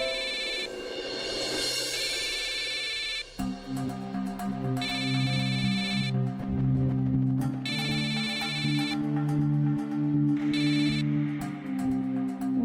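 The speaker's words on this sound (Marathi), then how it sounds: "खाली फोन वाजतोय" A telephone rings downstairs in a home, with repeated electronic ringing bursts of about one to two seconds each over steady background music, and no one speaks.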